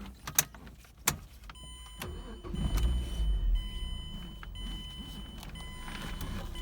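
A 2010 Mazda Miata MX-5 convertible starts after two sharp clicks, then its engine settles into a low, steady idle heard from inside the car.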